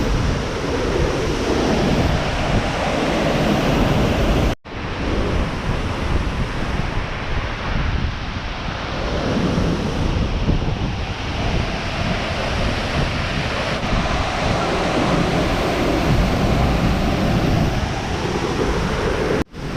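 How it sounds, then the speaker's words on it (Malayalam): Strong wind at Karukulam waterfall buffets the microphone in a loud, continuous roar, blending with rushing water and briefly cutting out near the start, with no talking. "നല്ല അടിപൊളി കാറ്റ്."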